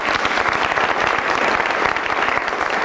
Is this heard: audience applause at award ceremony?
yes